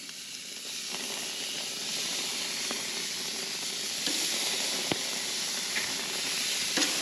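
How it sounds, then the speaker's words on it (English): Bacon-wrapped meat sizzling on a scalding hot grill, a steady loud hiss and crackle with occasional sharper pops throughout. "I'm going to wrap this in bacon and get it on the grill"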